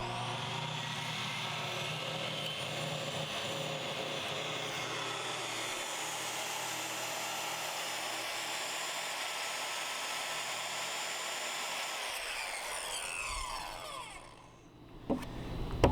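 A circular saw makes an angled cut during a toy hauler office modification, giving a steady, loud whine that runs for about fourteen seconds before spinning down and ending in a clatter.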